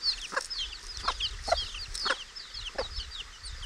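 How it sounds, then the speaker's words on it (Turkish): Week-old chicks outdoors for the first time, cheeping in rapid high-pitched chirps that overlap in clusters, with a few sharper clucks punctuating the chatter at a steady, close-up volume. "İlk defa dışarı çıkıyor bu civcivler."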